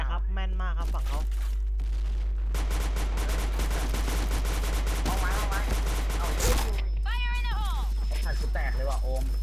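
Rapid bursts of gunfire in a shooter video game, loud and sustained with dense overlapping shots, while players talk excitedly over the top.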